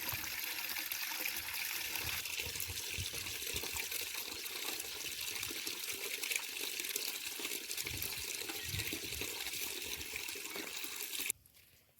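Water pouring into a bucket at a village home, a continuous splashing, gurgling stream close by that stops abruptly near the end, with no talking.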